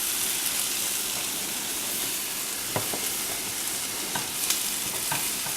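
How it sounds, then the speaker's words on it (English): Mushrooms sautéing in a pan give off a constant soft sizzle and hiss, with occasional light clicks of stirring, moderately close and with no talk. "sauteing the mushrooms"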